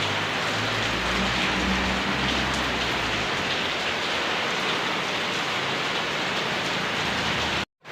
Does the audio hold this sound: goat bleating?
no